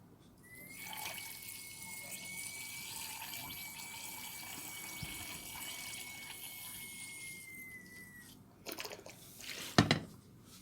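Isopropyl alcohol at 70 degrees poured into a container to top it up, a steady liquid stream running for several seconds, followed by a few louder knocks and clinks of handling near the end.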